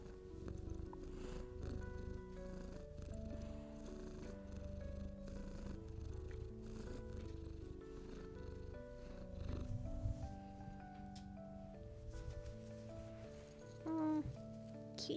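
A cat purrs steadily while being held, a close, soft, continuous rumble with faint rustling of movement around it.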